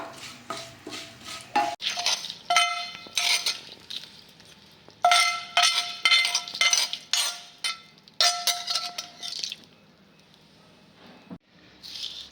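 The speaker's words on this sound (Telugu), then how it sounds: "ఇప్పుడు ఈ పోపును తీసుకెళ్ళి" A spoon scrapes and clinks against a metal bowl in repeated bursts of stirring, with short pauses between strokes, mixing a fried spice tempering into toor dal chutney.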